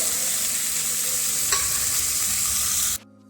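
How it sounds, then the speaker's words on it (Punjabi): Green chilies and tomatoes are stirred into fried onions in a hot tempering, giving a steady, close sizzle with scraping stirs, one sharp tap midway, before cutting off abruptly. "ਹਰੀਆਂ ਮਿਰਚਾਂ ਪਾ ਕੇ ਮਿਕਸ ਕਰ ਦੇਵਾਂਗੇ ਤੇ ਨਾਲ ਹੀ ਆਪਾਂ ਟਮਾਟਰਾਂ ਨੂੰ ਪਾ ਦੇਵਾਂਗੇ"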